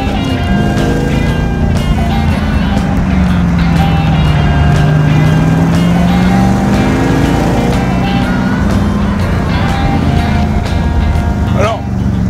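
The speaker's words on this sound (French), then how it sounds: "partir avec cette auto, cette Cobra 289" An AC Cobra 289 sports car on a racing track gives a loud, constant engine drone from inside the car, its pitch sliding down and back up in the middle, with a voice faintly underneath.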